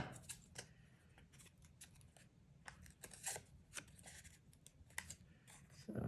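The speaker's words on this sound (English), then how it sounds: "Next, I'm going to cut the top 2 to be more curved." Scissors snip paper for a kindergarten mouse collage, several short crisp cuts spaced unevenly over a quiet room background, close and fairly faint.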